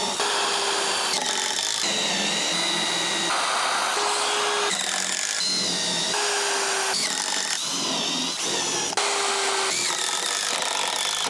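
A cordless drill drives a fastener during a trailer rebuild, whining in repeated strained bursts as it runs low on power and bogs down, each burst stopping abruptly before the next.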